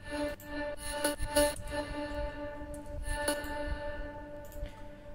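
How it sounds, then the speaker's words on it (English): Sidechained vocal chant layer in a melodic dubstep and psytrance remix of Twilight Princess, a sustained tonal chant that pumps rhythmically in level, with sharp percussive hits cutting through, steady and moderately loud. "I have this sort of vocals chant thing, which with the sidechain sounds like this."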